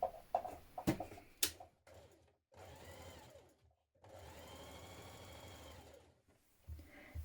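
A sewing machine runs long gathering stitches across a dress bodice in short whirring bursts separated by pauses, with a few sharp clicks and handling knocks at the start.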